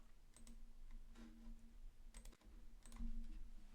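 A computer keyboard clicks in short, quiet bursts of typing, with brief pauses between keystroke runs and no voices over it.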